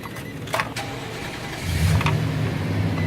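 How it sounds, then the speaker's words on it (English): A Nissan Titan pickup truck is started with the key: brief cranking clicks, then the engine catches and settles into a loud, steady idle rumble, close up. "start the vehicle with the key"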